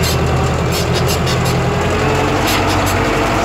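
A tractor engine runs steadily while preparing farm soil with a vibrating cultivator, a loud close low rumble with a rough continuous mechanical clatter and no talk over it.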